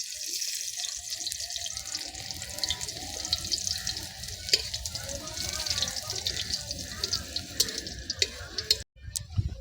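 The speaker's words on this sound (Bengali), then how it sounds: "আমাদের রসুনটা ভাজা ভাজা হয়ে গেছে" Crushed garlic fries in hot oil with dried red chillies, a dense close crackle with scattered pops that runs almost without a break before a brief drop near the end.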